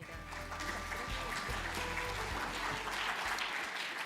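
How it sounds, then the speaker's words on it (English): An audience at a housing and urban finance forum applauds to welcome a speaker, a continuous wash of clapping over a low hum, with some murmured speech beneath it. "please welcome Professor Malpezzi with a big round of applause"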